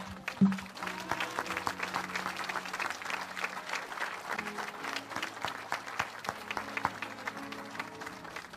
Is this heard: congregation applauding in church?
yes